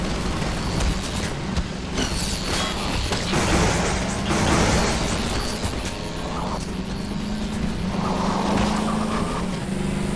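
A car drives through Half-Life 2 in VR, its steady engine rumble running loud and continuous alongside crashes, thumps and other game effects, with no talk over it.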